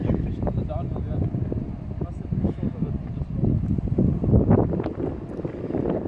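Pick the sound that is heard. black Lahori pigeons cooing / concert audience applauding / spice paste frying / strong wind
strong wind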